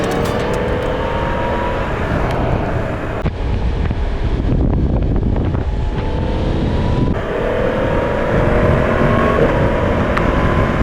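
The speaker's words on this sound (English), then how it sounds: "Let's just have a little listen to the engine" Yamaha MT-10 motorcycle engine running steadily and loud, with rising and falling revs and a brief dip in the middle, buffeted by heavy wind noise across the microphone.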